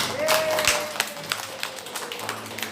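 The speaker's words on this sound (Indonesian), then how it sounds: "tepuk tangan untuk kita semua" Scattered, sparse clapping from an audience at an Indonesian women's organization cadre gathering on stunting reduction, a few sharp claps standing out over room murmur, with a faint tonal whine running underneath.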